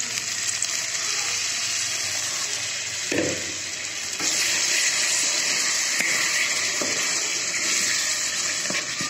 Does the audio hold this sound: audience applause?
no